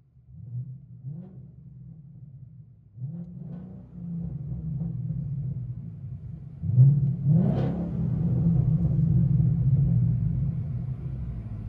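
A 2013 Ford Mustang GT with a 5.0L Coyote V8 and straight-piped 3-inch dual exhaust rumbles from inside the cabin, idling low with a few blips and a rising rev, then a steady drone.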